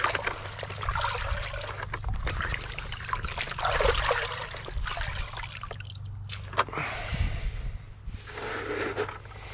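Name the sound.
squeezing pond filter foam out in a bucket of water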